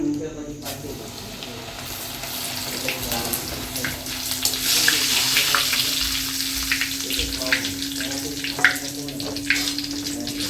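Diwali snacks fry in hot oil in a home kitchen, giving a steady close sizzle with crackling bursts that swell and fade, joined by a constant low hum.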